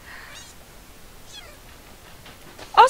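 Cat meowing in the video game Minecraft, a few soft mews scattered across a quiet stretch before one sharp, louder cry at the very end.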